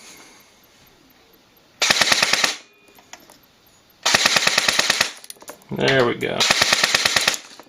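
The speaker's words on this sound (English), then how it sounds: "So we're still shooting around 400, give or take, in auto." Bolt B4 Keymod airsoft rifle firing on full auto in three rapid bursts of sharp, evenly spaced shots, close and loud, with a brief voice speaking between bursts.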